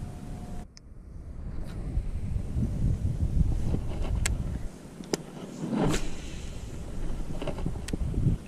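Breeze buffets the microphone during bass fishing from a boat near Reno on a hot summer day, a steady low rumble broken by short gusts and small handling knocks, with no one speaking.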